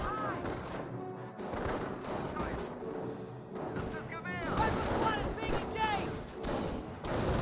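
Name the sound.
rifle gunfire from windows in video game Company of Heroes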